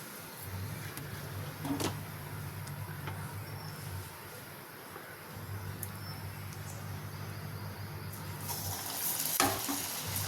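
Purnam boorelu, sweet stuffed dumplings for Ugadi, fry in hot oil with a quiet continuous sizzle and low bubbling, punctuated by a few faint clicks and a louder knock near the end.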